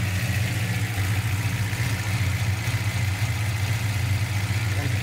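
A Ford LTD LX engine with a cooling problem idles steadily with lifter noise, giving a constant low, close hum with a faint ticking texture throughout.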